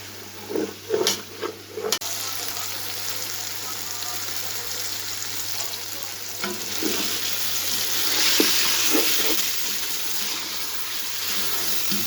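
Mutton for degi qorma fries with half a cup of oil, giving a steady broadband sizzle throughout, with a few louder stirring clatters near the start and occasional scrapes later.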